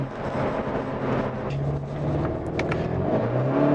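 Skoda Octavia RS 245 TFSI, a front-wheel-drive car, accelerating uphill in second gear with wheelspin: a steady, fairly close engine drone that swells and rises in pitch, with no talk.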